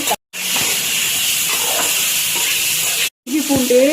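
Tomato, ginger and garlic hissing and sizzling in a hot pan, a steady loud sizzle cut by two brief silences, with stirring scrapes near the end.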